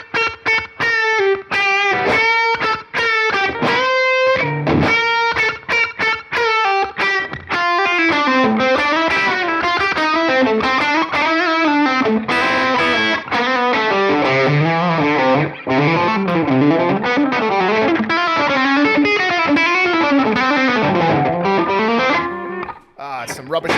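Single-coil electric guitar run through a crunchy Lovepedal Box of Awesome overdrive, busy strummed and picked playing continuing loud and steady throughout, with no talking.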